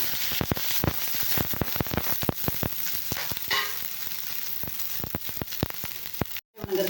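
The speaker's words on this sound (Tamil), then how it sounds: "நல்லா பொரியட்டுங்க பொரியட்டுன்ட்டு வெங்காயம் போட்டுக்கலாங்க" Mustard seeds, cumin and onion frying in a pan for a ridge gourd gravy, a steady loud sizzle broken by many sharp popping crackles throughout, with no talking.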